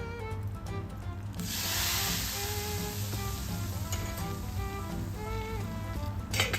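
A hot tempering of dried chillies and curry leaves hits a pot of Kerala-style sambar, bursting into a loud, bright sizzle that settles into steady crackling and bubbling close by, with a clatter near the end.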